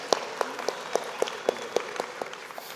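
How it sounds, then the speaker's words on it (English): Sparse applause from a small conference audience, a handful of distinct, evenly spaced claps over about three seconds, fairly quiet with a faint room hum underneath. "can we give a round of applause for Jackson, because guy is working really h"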